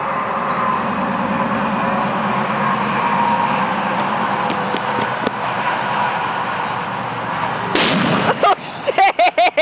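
Outdoors, a short fuse burns down and an explosive goes off. A steady rumbling background is broken near the end by a sudden loud blast, followed by several sharp crackling bursts.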